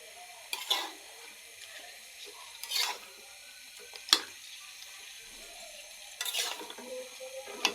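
Chicken meat frying in a pot is stirred in a few separate bursts, each a brief scraping sizzle, with a quiet background hiss in between.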